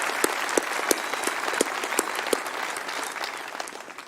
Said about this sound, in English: One more time, a round of applause for you guys.